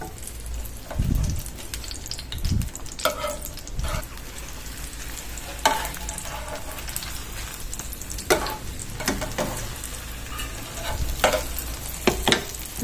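Egg and ham omelette cooking in a frying pan, rolled up in layers: a steady soft sizzle with intermittent scraping and stirring knocks from a utensil, close by, with no talking.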